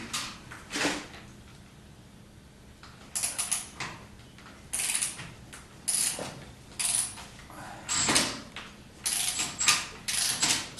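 Hand tools working on the bolts that hold a Borgeson steering unit in a 1976 Corvette restomod, with repeated bursts of ratchet clicking separated by short pauses, close and fairly loud, with no talking.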